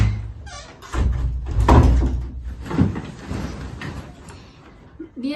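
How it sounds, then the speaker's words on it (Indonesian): A door swings shut indoors with a solid knock and rattle of its mechanism, loud and close, followed by quieter shuffling and small knocks in the room. "tutup dulu pintunya sana"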